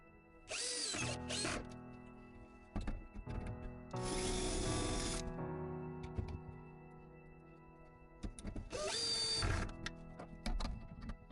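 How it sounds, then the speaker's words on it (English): A power drill whirs in three bursts, driving screws into wood while installing a pull-out drawer base, with ticking and clicking handling noises in between. "Screwing in the screws and we have a drawer base installed."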